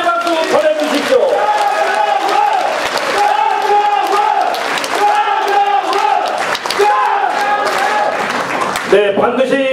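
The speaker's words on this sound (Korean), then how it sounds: "여러분 다시 한번 축하의 박수 보내주십시오." A crowd at a Grand National Party ceremony presenting a Seoul mayoral candidate's nomination claps and cheers loudly for the whole stretch, with shouted voices and whoops layered over continuous applause.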